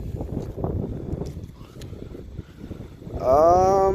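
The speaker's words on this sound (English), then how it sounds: "So windy, guys." Strong wind buffets the microphone in loud, uneven gusts, ending in a high mechanical whine rising in pitch.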